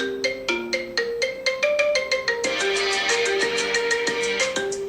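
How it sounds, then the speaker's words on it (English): A custom song ringtone plays on an iPhone 14 Pro Max, a bright melodic tune of repeated plucked notes that builds into a fuller, denser passage, loud and clear with no talking. "let me just quickly show you my ringtone"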